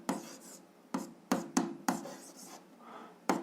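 Pen strokes scratch across paper while an algebra exercise solution is written out, several sharp bursts of writing with short pauses between them, close and clear without any talking.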